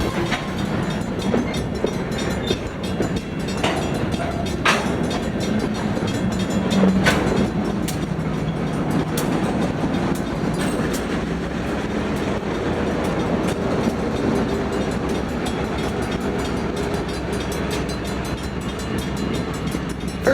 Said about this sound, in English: caught the Utah Central backing in with the grain cars into Ardent Mills